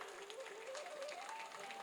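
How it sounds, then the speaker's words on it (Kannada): Audience at a village panchayat development-works celebration in Karkala claps together in a short burst of faint, distant applause, with a thin whistling tone drifting above the clatter. "ಬಂಧುಗಳೇ, ಒಂದು ಜೋರಾದ ಚಪ್ಪಾಳೆ ಬರಬೇಕು ಇವರಿಗೆ."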